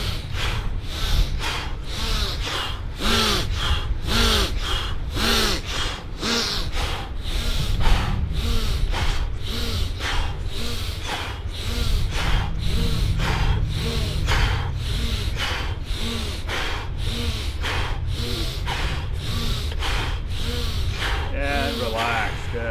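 A person breathes forcefully as breath-hold preparation, producing a long, steady series of loud, close, rhythmic exhales that are sharp and evenly spaced.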